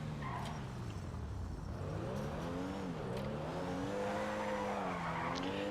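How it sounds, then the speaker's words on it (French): A Pfister Comet Retro Custom in GTA V skids with sustained tire squeal, its lowered engine revving in rising and falling sweeps throughout, loud and continuous with no voices. "La voiture va aussi beaucoup déraper"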